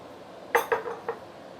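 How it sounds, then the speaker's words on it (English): XL prawns dropped into a cooking pot for drunken prawns, giving three or four quick clinks against the metal in close succession, close and fairly soft in a quiet room. "And then we're going to put in the prawn."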